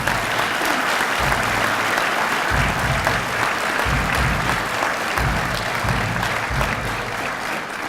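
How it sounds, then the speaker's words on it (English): A graduation ceremony audience applauds after pipes and drums and an honor guard, sustained dense clapping that holds steady and eases only slightly near the end. "let's give them a round of applause"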